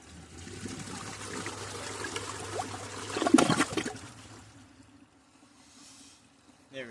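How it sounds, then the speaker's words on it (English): A 1995 Mansfield Alto toilet flushes with a swirling siphon, a steady rushing wash of water building to a loud gurgling pull near three and a half seconds, then fading to a faint trickle and refill. "I'm gonna try and get a swirly siphon out of this."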